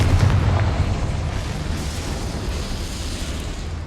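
A Confringo blasting curse in Hogwarts Legacy, a loud close explosive burst with a rumbling low-end boom that slowly decays into a sustained roar.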